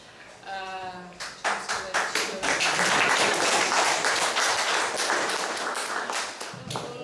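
An audience claps in a room, starting as a few scattered claps and quickly swelling into full, sustained applause that tapers off at the end, with a brief voice at the start.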